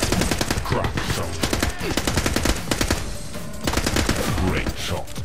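Sustained automatic gunfire in the shooter The Club during an assault on Alcatraz, a loud rattling stream of closely spaced shots with brief gaps between bursts, faint voices underneath.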